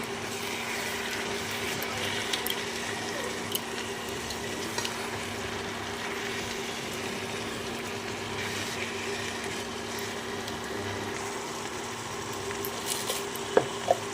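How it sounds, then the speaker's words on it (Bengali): Water lily stem curry with turmeric stirred in a pan, soft steady sizzling with occasional light clinks of a spoon against metal, close and fairly quiet. "হলুদ দিয়ে ভালো করে নাড়িয়ে নিতে হবে"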